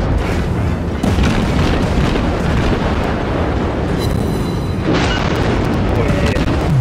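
Naval gunfire from World of Warships shelling the player's ship: dense, sustained booming blasts fill the whole stretch, loud and close, with shouting voices over the barrage.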